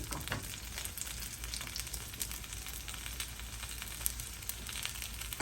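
An oats omelet sizzles steadily in a pan on the stove, a soft, even frying hiss with small crackles and no talking.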